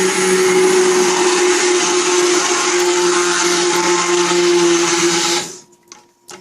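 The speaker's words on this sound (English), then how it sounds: "to speed up the process, I'm going to use this. It's a smart stick." An electric smart stick blender runs steadily while mixing lard soap, a loud continuous whirring drone with a steady pitch that cuts off abruptly near the end, leaving quiet clatter.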